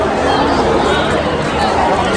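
A large, dense crowd at the Rath Yatra chariot festival beside Subhadra's chariot, a steady wall of chatter and babble that fills the scene without pause.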